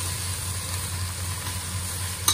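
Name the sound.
sautéing for tuna and cabbage dish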